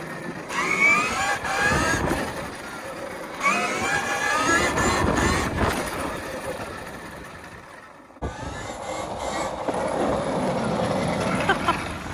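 A KTM Freeride trike accelerates hard in a steady, loud rush of motor and wind noise with a rising whine, broken by a sudden drop at about eight seconds before the roar picks up again.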